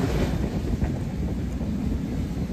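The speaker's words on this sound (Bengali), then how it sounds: "দেখতে খুব ভাল লাগে কিভাবে এক লাইন থেকে আরেক লাইনে চলে আসে ট্রেন।" Nilsagar Express, a passenger train running from Dhaka to Naogaon, crossing from one line to another on a foggy morning: a steady, dense rumbling roar with no let-up and no voices.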